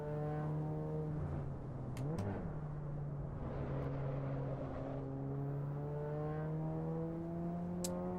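A steady, buzzing car engine tone holds pitch, briefly dipping and rising, with a few faint clicks, like a car running continuously in the racing game Assetto Corsa Evo.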